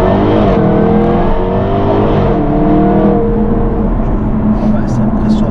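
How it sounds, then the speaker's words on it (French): A Range Rover SVR accelerating hard on a straight road, its engine note rising steadily from inside the cabin, loud and continuous, with people talking over it. "là, je vais te faire une petite accélération, mais tu vois, c'est en ligne droite"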